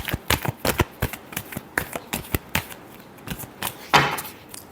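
A deck of tarot cards is shuffled in a steady series of crisp riffling bursts, close and fairly loud, ending with a longer flutter as the cards are squared.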